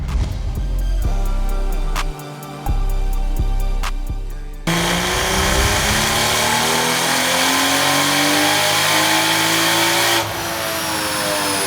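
BMW B58 engine car on a dyno at 20 PSI, first blipped in short sharp revs, then a long, loud full-throttle pull rising steadily in pitch before the engine drops back off.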